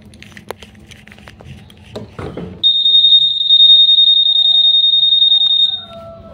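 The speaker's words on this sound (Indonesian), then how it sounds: "itu ternyata alarm aktif" The security alarm on a 2023 Honda Vario 125 motorcycle lets out a loud, steady high-pitched electronic tone for about three seconds, following some light handling noises.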